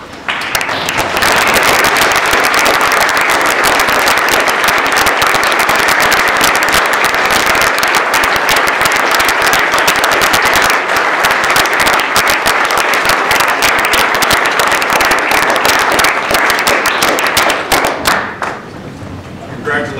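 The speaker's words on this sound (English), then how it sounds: "let us show our veterans and today's speaker for their special service by standing and applauding" A standing audience applauding veterans at a Veterans Day event, loud sustained clapping from a large crowd with sharp individual claps and thumps, continuing strongly for about seventeen seconds before quickly tapering off.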